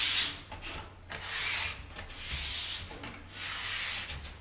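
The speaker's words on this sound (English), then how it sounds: "that sharp edge, you can get it along that top edge there" Hand sanding along the sharp top edge of a painted or wooden surface makes rhythmic rasping strokes, four or five distinct scrubbing passes close by with short pauses between them.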